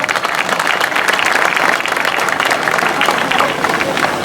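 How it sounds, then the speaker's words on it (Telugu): Audience at a Hindu religious gathering with a swami on stage applauds the donors, steady dense clapping sustained throughout at close range with no break. "ఒకసారి గట్టిగా చప్పట్లు."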